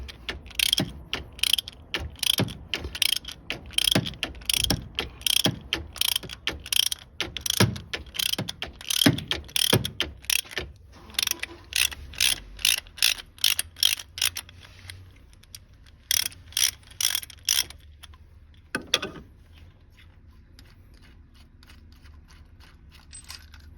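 A valve spring compressor tool being backed off to release spring tension on a Chevy 327 engine, close and crisp: a long run of quick, evenly spaced metallic ratchet clicks, pausing briefly, resuming, then ending with one final clack.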